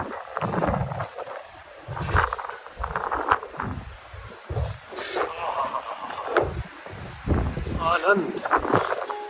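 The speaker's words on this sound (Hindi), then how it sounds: "बड़ी तेज हवा है" Strong wind in Tbilisi, Georgia, buffets the microphone in loud, uneven gusts, rumbling and roaring in bursts while people talk nearby.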